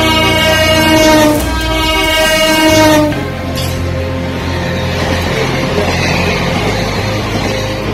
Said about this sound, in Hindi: ट्रेन चला रहे ड्राइवर ने जैसे ही पटरी पर देखा तो तुरंत ही अपना हॉर्न बजाया